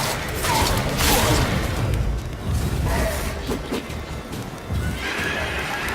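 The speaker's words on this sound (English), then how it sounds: "The horse is scared." A scared horse in The Witcher 3 whinnies and snorts over steady hoof clatter and creaking movement, with brief bursts of neighing throughout.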